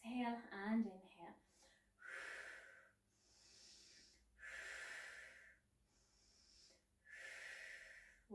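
Slow, audible breaths in and out during a Pilates exercise, each long airy exhale and inhale spaced a second or two apart, with a voice heard briefly at the start.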